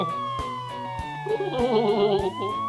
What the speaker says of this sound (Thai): เสียงรถตำรวจ